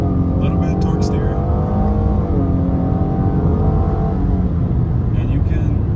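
2018 Nissan Maxima driving through a turn, a steady engine drone with rising and falling tone heard from inside the cabin, with someone talking over it.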